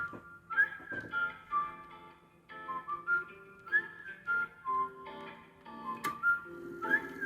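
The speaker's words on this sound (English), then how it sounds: "the vibe that the whistling in the beginning gives off" Melodic whistling carries a bouncy tune over a soft musical backing in a K-pop song, with short repeated phrases and occasional bright ticking accents.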